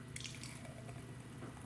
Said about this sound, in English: we're going to just pour it in here